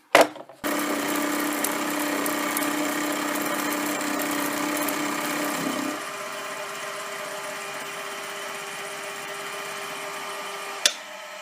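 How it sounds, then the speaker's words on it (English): A milling machine cuts workpiece edges with a 1-inch diameter tool, giving a steady whirring drone with a tonal whine that drops to a quieter run partway through, ending with a sharp click. "we'll use this smaller 1-inch diameter tool to do the edges"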